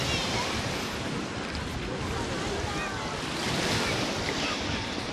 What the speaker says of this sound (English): I'm just gonna leave you with this view of the ocean here